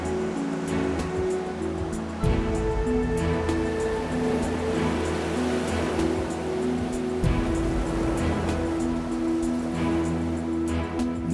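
A boat cruising along the canal that links Amsterdam to the open sea, with a steady, continuous engine drone and wash of water running throughout, fairly close and unbroken.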